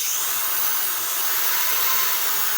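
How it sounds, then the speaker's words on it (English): A power drill bores pilot holes for anchor spools on a model rocket build, giving a steady, loud high-pitched whine with a faint low pulsing underneath. "So we're gonna drill a couple pilot holes right here."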